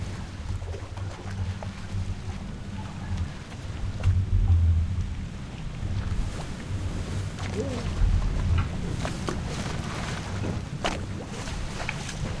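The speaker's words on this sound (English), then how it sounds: "Storm's nearly about." A thunderstorm rolls through the video game Return of the Obra Dinn, with steady rain hissing throughout and deep thunder rumbling in low swells, loudest around the middle.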